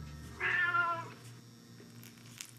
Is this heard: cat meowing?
yes